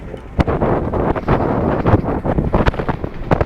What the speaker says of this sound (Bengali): প্রচন্ড বাতাস এবং আবহাওয়াটা খুব সুন্দর